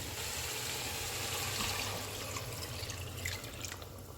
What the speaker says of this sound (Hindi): इसमें यखनी डाल देते हैं